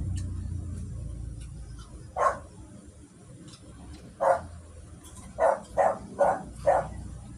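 A dog barks repeatedly at a moderate distance, a single bark, then another, then a quick cluster of four, over a low background hum.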